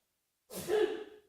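A single abrupt sneeze bursts out of silence, loud and close, with a sharp breathy onset and a short fading tail.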